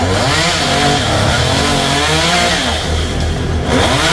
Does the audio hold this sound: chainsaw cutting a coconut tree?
yes